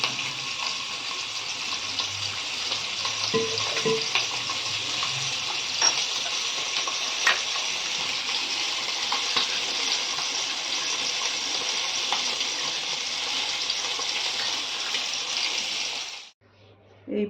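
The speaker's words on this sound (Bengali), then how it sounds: "ডিমগুলো ভেজে নিচ্ছি।" Eggs fry in a pan for a Bengali egg curry, giving a steady, close, crackling sizzle with a few small pops that runs evenly until it cuts off near the end.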